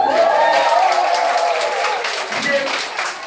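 An audience claps at a year-end party run by an MC, a steady wash of applause filling the room, loud at first and thinning slightly toward the end.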